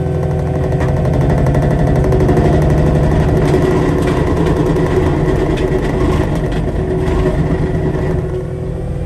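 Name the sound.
Caterpillar 259D with Diamond rotary mower spinning up and cutting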